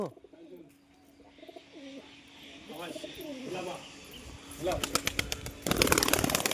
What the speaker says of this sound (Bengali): এই যে চলে আসছে কৌতুরটা